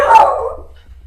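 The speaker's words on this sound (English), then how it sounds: "She's barking because she heard a noise." A single short, loud dog bark close by, set off by a noise in the house, fading quickly with no talk over it.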